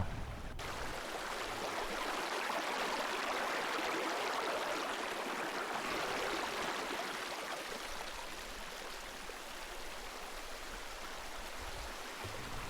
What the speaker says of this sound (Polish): Obok płynie bardzo fajny potok z czystą wodą, krystalicznie czysta woda, lodowata do tego.